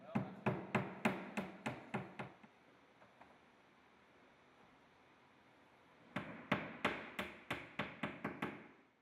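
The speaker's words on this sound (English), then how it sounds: "Finally, lock in the panel and loose nail in place." Hammer blows nailing a CertainTeed Cedar Impressions D7 straight edge siding panel in place, two close bursts of about seven sharp, evenly paced strikes separated by a quiet pause.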